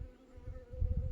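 Honeybees buzz steadily on a beehive frame, a close, continuous low drone with slight swells in intensity and no voices.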